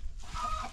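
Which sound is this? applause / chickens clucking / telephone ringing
chickens clucking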